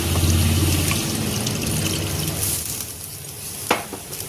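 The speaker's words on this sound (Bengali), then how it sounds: "এই যে জলটা দিলাম" Water poured into spices frying in a pan for Bengali-style rajma, with fenugreek in the oil; a steady close trickle and sizzle runs throughout, easing off toward the end with a small clink.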